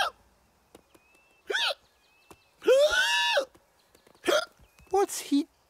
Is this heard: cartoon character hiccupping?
yes